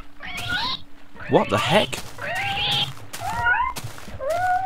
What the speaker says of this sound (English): There's drowning cats.